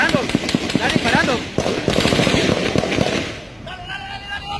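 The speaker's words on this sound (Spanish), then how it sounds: "Hay detonaciones por parte. Están disparando." Rapid bursts of gunfire crackle in quick succession during an armed confrontation, loud and close, with a voice talking over the shots before they fade into quieter ambience.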